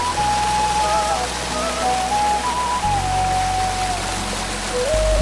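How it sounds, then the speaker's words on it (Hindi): A small mountain stream or waterfall on the Yulla Kanda trek rushes in a steady, close hiss, with a faint thin melody running over the flowing water and no talking. "ये इस यात्रा में मिलने वाला सबसे पहला और छोटा नाला या झरना है।"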